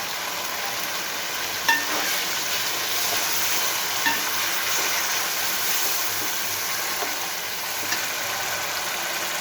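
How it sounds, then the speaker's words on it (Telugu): Curry leaves sizzle in hot oil for tamarind rice, a loud continuous frying hiss with a few faint clicks along the way. "ఇప్పుడు కొంచెం కరివేపాకు వేస్తున్నాను."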